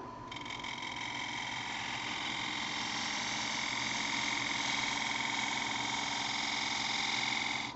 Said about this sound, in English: now I'm going to come in with my detail gouge and just come up under it